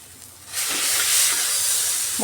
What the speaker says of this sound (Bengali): মশলাটা খুব সুন্দর কষানো হয়ে যাচ্ছে